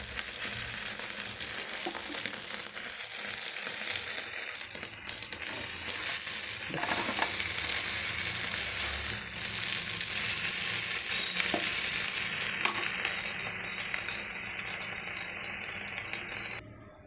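An egg omelette sizzles in a pan as sauce is poured over it, a continuous close frying crackle with occasional rattles and scrapes, easing off toward the end.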